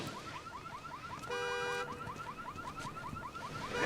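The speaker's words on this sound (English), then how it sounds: "Extremely noisy car alarm doesn't trigger all of the zombies to walk towards the sound" A car alarm wails in a zombie-filled city street, a distant repeating warble that briefly shifts into a steady pulsing tone before the rising chirps return.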